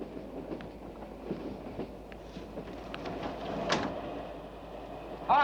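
A passenger train rolls along its rails with a steady rumble and faint rhythmic clicks, and a sharper metallic squeal rises near the end.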